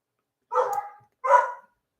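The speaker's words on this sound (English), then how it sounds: "Well, you just keep barking, Xana." Two sharp, close barks from a pit bull in quick succession, separated by a brief pause, with silence around them.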